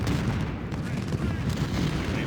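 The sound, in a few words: musket gunfire from video game Ultimate General Civil War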